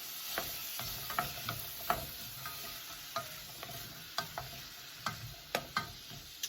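Onions with grated ginger sizzle softly in a pan for turmeric coconut rice while a utensil stirs them, giving a quiet steady fry broken by a dozen sharp scrapes and clicks.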